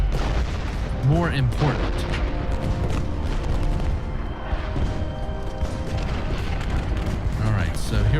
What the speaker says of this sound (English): begin firing a volley into this artillery unit